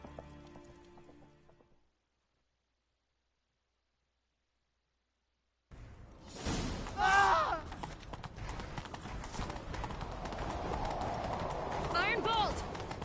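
Horse hooves in The Witcher 3 galloping at a steady pace after a short silence, with rushing movement and occasional voices or horse cries over the rhythmic footfalls.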